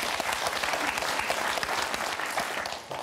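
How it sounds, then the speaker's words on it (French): Studio audience on a French TV word game show applauding, a dense, steady wash of many hands clapping close and loud throughout, easing slightly at the end. "Johan, Karine, on vous applaudit très fort."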